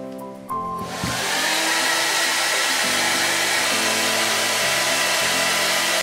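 A Xiaomi SOOCA H3S hair dryer switches on after a brief click and then blows with a loud, steady whoosh and whine, its pitch stepping slightly as the speed settings change.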